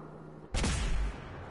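A single loud gunshot blast from a weapon in Fallout 4 bursts in abruptly after quiet ambience, then rumbles and decays over about half a second.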